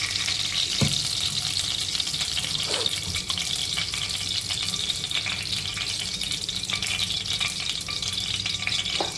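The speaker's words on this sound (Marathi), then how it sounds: "कढईमध्ये आपण दोन चमचे तूप टाकणार आहोत" Two spoons of ghee heating in a kadai, a soft continuous sizzle with occasional clinks and stirring, fairly quiet and without talk.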